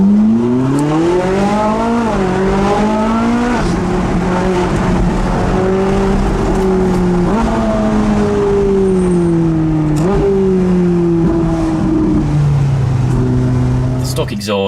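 Ferrari 458 on its stock exhaust, revving hard with rising and falling engine pitch through repeated sweeps, a loud continuous wail near the microphone while a person speaks over it.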